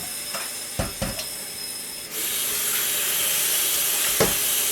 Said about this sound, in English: Let's wash this down a little bit.